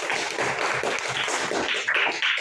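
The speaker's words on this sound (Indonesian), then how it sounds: "Kasih tepuk tangan untuk kelompok." Classroom applause for a student group during a lesson, a steady, dense patter of many hands clapping together throughout, fairly close and even in loudness, with no clear voices over it.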